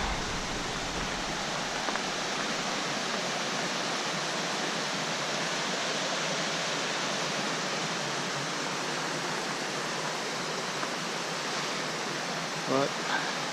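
Mountain stream on an Ontario Peak hike in Southern California, rushing water making a continuous broadband roar that stays loud and even throughout, with no talking.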